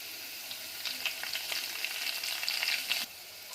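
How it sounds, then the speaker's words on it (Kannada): Curry leaves crackle and sizzle in hot oil for a tempering for Andhra-style palak dal, a close, busy spattering with sharp pops that drops off abruptly near the end. "ಅದಕ್ಕೆ ಇವಾಗ ಕರ್ಬೇವು ಹಾಕ್ಕೊತಾ ಇದ್ದೀನಿ"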